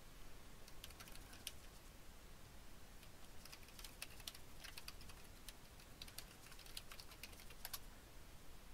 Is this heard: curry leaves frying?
no